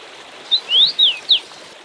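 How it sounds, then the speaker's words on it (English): Four clear, high whistled notes from a common rosefinch rise and fall in quick succession over a soft, steady rush of a flowing river in the Altai. "the sounds of the river and the call of the common rosefinch"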